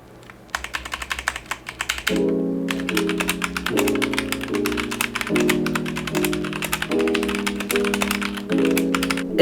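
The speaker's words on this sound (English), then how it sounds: "you guys can have the B-roll of me just typing vigorously on the computer, on the keyboard" Brisk, energetic typing on a computer keyboard sounds as dense, rapid clicking close up and runs the whole way through, joined after a moment by steady musical tones in the background.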